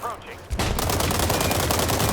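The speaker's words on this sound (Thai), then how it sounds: "เสียงยิงอยู่เลยเนี่ย" Gunfire in a free-to-play first-person shooter game: after a short quiet lead-in, a sudden, dense, continuous burst of loud rapid shots fills the rest of the moment.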